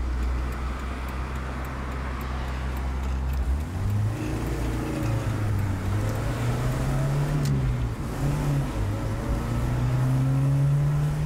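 A Toyota Corolla KE70 fitted with a 4AG-E engine drives along, its engine note steady at first, then rising and shifting in pitch through several gear changes under constant road noise, heard from inside.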